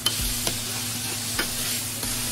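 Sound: flipping a pizza burger patty sizzling on the griddle

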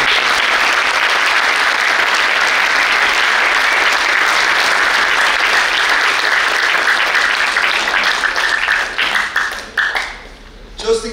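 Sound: audience applause for students receiving certificates

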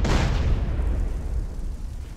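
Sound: explosion in the video game Grand Theft Auto San Andreas

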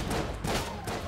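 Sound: Cooler Bullet Brothers handgun shots in Enter The Gungeon video game

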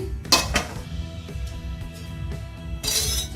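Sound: pot lid lifted off cooking eggplants

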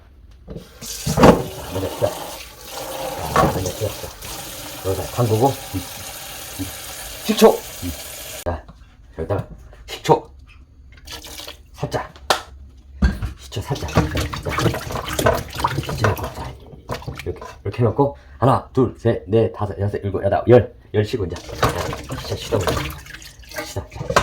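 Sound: washing cucumbers under running tap water

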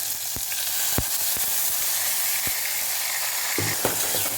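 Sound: mashed tomato sizzling while sautéed for okra kuzhambu

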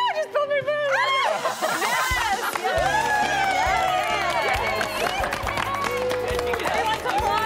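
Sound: crowd clapping and cheering

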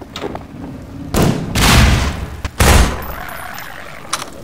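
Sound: magnum pistol gunshots in Half-Life 2 video game

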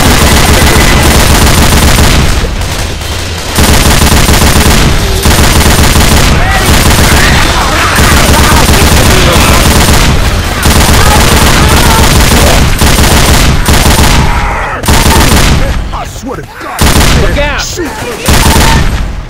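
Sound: heavy gunfire from a big gun in a video game

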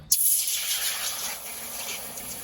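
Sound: water poured into a wok

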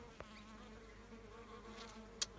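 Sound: bees buzzing while drinking water

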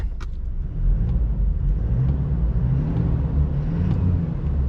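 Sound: Toyota Fortuner Legender with GTC exhaust, engine and exhaust sound

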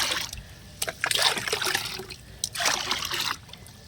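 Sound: water being poured to make up 20 liters

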